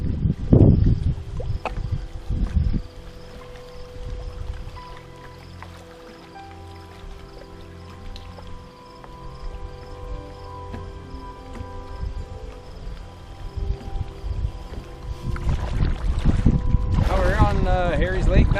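Wind gusts across the microphone while a solo canoe is paddled on Harry Lake in Killarney Provincial Park, a steady rushing roar with water splashes and someone speaking at the start and end.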